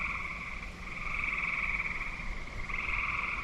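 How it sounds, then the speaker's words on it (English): A chorus of frogs croaks and trills continuously outdoors after a storm, a dense steady drone of overlapping calls at moderate distance over faint ambient noise, with no talk. "The animals are out, the frogs are out."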